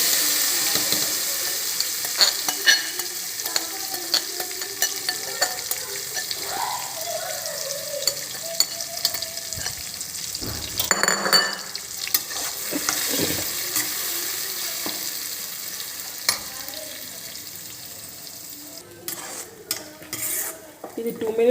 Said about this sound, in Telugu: పచ్చడి దీంట్లో వేసేసి ఒక 2 minutes వేగనివ్వాలి.